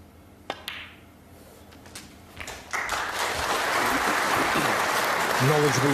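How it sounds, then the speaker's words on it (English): Knowledgeable applause from the Crucible audience at a 2002 snooker match between O'Sullivan and Hendry, starting after a couple of sharp knocks and quiet murmurs, then swelling into steady, sustained clapping that carries on to the end. "Knowledgeable applause"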